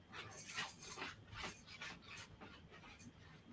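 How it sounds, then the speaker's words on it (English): Dog barking and yelping in quick irregular bursts, a dozen or so short sharp calls at moderate distance, fairly faint, with no talk over them. "Oh, it's a dog."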